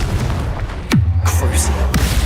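A Confringo spell detonates in Hogwarts Legacy with a low, booming swoop, followed by a sustained rumble. A voice is heard around it.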